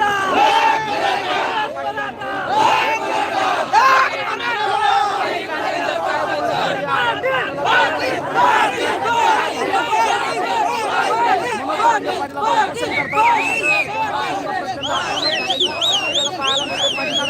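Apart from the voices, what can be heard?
huge crowd of Maratha protesters shouting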